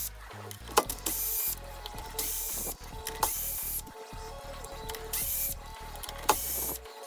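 A ratchet with a 12 millimeter socket clicks in repeated bursts while loosening bolts at the front wheel hub of a Suzuki Samurai, mixed with intermittent hissing, close and steady.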